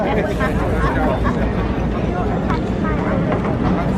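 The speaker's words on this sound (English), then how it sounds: "Red 1 has positioned the aircraft into dagger formation as they enter the left-hand turn coming in from show center." Red Arrows jets fly at the MCAS Miramar air show, entering a left-hand turn in dagger formation, heard as a broad, loud jet roar blended with a commentator's voice and crowd babble.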